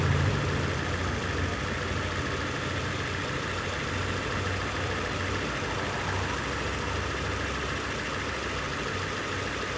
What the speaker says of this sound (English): So right now it's running like a normal vehicle with no misfires.